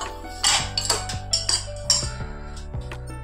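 Salt and turmeric are stirred into food in a cooking pot, a spoon knocking and scraping against metal in several short, uneven clinks nearby, with a faint steady hum beneath and no talk.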